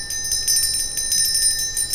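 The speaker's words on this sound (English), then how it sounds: "So I'm just going to ring a little bell." A small hand bell is rung at a ceremonial gathering, sounding a series of bright, sustained metallic strikes that ring out close and clear, each tone lingering and overlapping the next.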